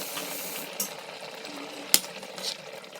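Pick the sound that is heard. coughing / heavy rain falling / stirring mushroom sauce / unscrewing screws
stirring mushroom sauce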